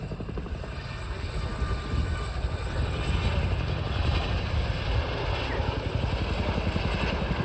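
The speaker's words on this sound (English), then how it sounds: "Having built up forward speed, the Chinook will now reposition to provide overwatch for the troops on the ground" A Chinook twin-rotor helicopter flies past at forward speed, its rapid blade thudding and turbine whine loud and continuous, swelling slightly midway, with no voices.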